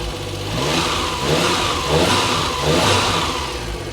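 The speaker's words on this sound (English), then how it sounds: "I'm gonna stand over here so you can hear the engine." A Suzuki Cappuccino's small turbo engine runs steadily nearby, its pitch rising and falling in two gentle revs over a constant rumble, with no voices.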